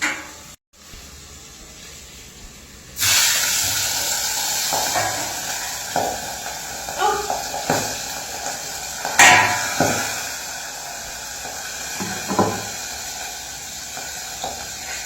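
Fish fries in hot oil with a sudden loud hiss after a quiet start, then a constant spattering sizzle with sharp crackling pops and occasional knocks of a utensil, close by.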